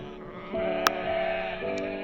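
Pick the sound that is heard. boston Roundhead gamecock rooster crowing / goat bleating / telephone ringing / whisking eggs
goat bleating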